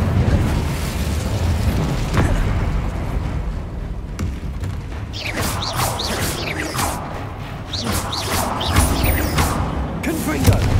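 Incendio fire spell being cast during Hogwarts Legacy gameplay: a continuous roaring, crackling blaze with bursts and whooshes layered over a busy game soundscape, with a voice speaking at points.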